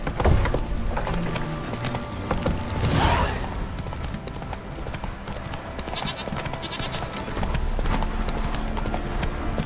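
Roach, the horse in The Witcher 3: Wild Hunt, pounds along at a gallop, hoofbeats fast and close amid game ambience, with a brief whoosh partway through.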